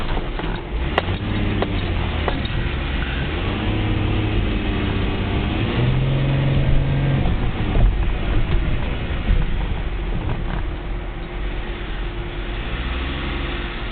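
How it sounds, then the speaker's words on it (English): A 2008 Ford Edge with transmission trouble reversing up a driveway, a loud continuous low engine rumble with faint knocks and a brief whine partway through, no talking. "There I am clunking into reverse again, and I'm going to back up my driveway"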